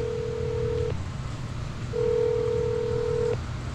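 Telephone dialing tones sound as a call is placed: two steady, loud electronic beeps, the first about a second long and the second roughly one and a half seconds, separated by a short gap over faint background noise.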